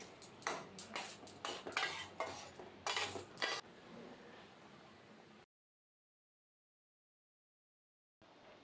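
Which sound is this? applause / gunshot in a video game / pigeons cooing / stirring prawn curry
stirring prawn curry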